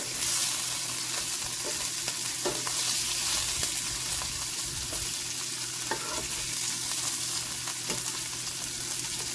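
Smoked sausages sizzle steadily in a skillet, a dense continuous frying hiss with occasional soft pops and the scrape of turning links, close and fairly loud throughout.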